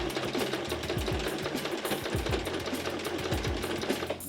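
A sewing machine stitches a tote bag in a steady, continuous run, its needle rattle close and loud with faint rhythmic thumps underneath and no voices.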